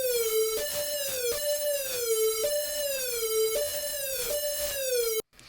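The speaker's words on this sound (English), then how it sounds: "it's kind of like a siren type of synth," A siren-like mono synth built in Serum in FL Studio, with portamento glides, sweeps up and down in a bright, buzzy tone, repeating about five wailing cycles at an even pace before cutting off abruptly.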